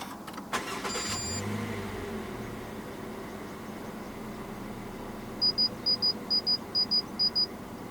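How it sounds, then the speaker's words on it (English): The 1.5-litre engine of a 2020 Toyota Rush S starts from the push button with a quick crank and catch, then settles to a quiet idle inside the cabin, followed later by a row of faint chime beeps. "Put your foot on the brake and press the start button to the right of the steering wheel."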